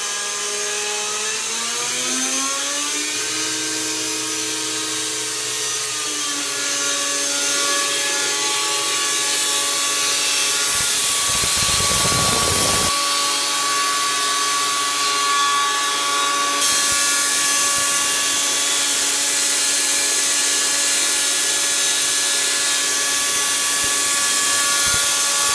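A shop-built 2x72 belt sander driven by a 24,000 RPM spindle motor runs up to about three-quarter speed, a loud steady mechanical whine with rising tones and a burst of rough friction noise partway through, no talking.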